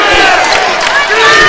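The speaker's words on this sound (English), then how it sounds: "Crowd really getting into it." Loud, steady roar of a basketball arena crowd cheering on the Coliseum floor in the closing seconds of a Dons men's game against Texas Pan American, dense and continuous throughout with whoops rising above it.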